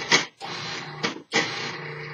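A food processor blade pulses the dry ingredients for a gluten-free pie crust in several short whirring bursts separated by brief silences, close and fairly loud with no talking.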